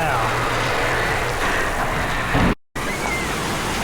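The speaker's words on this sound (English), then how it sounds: "It's raining out here, you guys." Rain falls outdoors as a steady, dense wash of noise throughout, broken by a brief dropout near the end.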